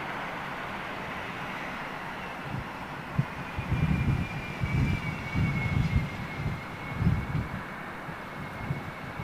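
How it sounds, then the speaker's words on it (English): An Egypt Air A330-200 freighter at London Heathrow produces a broad jet roar with a thin whine running across it, while low rumbling bursts rise and fall unevenly in the middle. "First time into London Heathrow, Egypt Air A330-200 freighter, folks."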